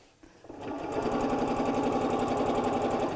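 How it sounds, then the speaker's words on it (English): A sewing machine stitches a foam-filled baby nest, starting up after a brief quiet moment and then running in a fast, steady mechanical rattle up close, with no voices. "Take your pins out as you sew."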